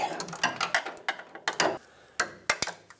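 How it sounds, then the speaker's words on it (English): Ratchet working loose tight bolts on a power steering pressure hose of a 1996-2002 Toyota 4Runner, heard as a run of sharp metallic clicks and knocks in uneven bursts, close by. "These are pretty tight, which is why I said you'll need a long ratchet."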